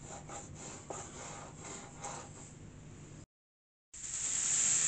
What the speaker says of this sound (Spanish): las vamos cortando ya en daditos más pequeños